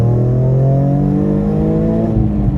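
An Alfa 147 GTA with its big naturally aspirated V6 revs loudly and close by, a steady, rich engine drone holding its pitch with a slight fall near the end.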